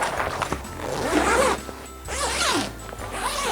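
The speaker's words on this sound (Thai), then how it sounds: "แล้วก็รูดซิปนะคะ" A zipper is drawn closed in several quick, rasping strokes on a floor bedding or cover while setting up a Japanese-style room, close and clear with brief pauses between pulls.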